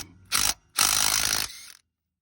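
A battery-powered tool loosens a bolt on a 1966 Chevy C-10 pickup in two loud, close bursts of rapid ratcheting whir, a short one and then a longer one, followed by silence.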